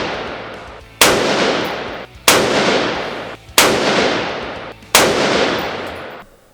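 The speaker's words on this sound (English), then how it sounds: "Shooting this 62 grain open tip match." Four loud rifle shots of 62 grain open tip match ammunition at a 100-yard indoor range, each a sharp crack with a long booming echo, spaced roughly a second and a half apart.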